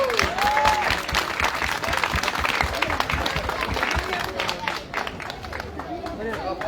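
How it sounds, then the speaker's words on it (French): Audience clapping steadily as performers pass by at an outdoor show, a dense continuous patter of applause mixed with crowd chatter and shuffling, fairly loud throughout. "Donc vous pouvez applaudir à chaque fois qu'ils passent"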